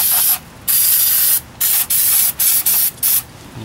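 Loud, close bursts of spray rinse the front brake parts of a 2000 Toyota Avalon, coming in about six hissing blasts of varying length separated by short pauses.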